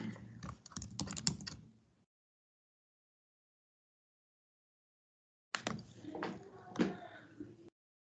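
A name being typed on a computer keyboard: two close bursts of quick key clicks separated by a few seconds of silence.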